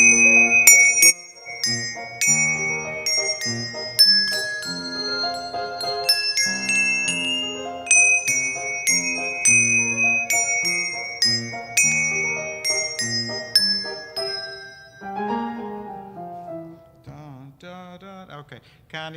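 Bells ring in a church setting, a sustained sequence of struck tones with a clear melodic pattern that fills the whole passage, loud and ringing with long decays, fading toward the end.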